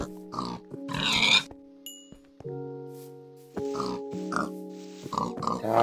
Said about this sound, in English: I hear a pig.